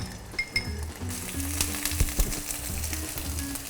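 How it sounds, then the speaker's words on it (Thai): Panang curry paste fries in oil over low heat, giving a steady close sizzle with a few clinks of a utensil against the pan and soft stirring scrapes. "ไฟเบานะครับจากนั้นก็ลงน้ำมัน เราจะลงเครื่องแกงแล้วนะครับ"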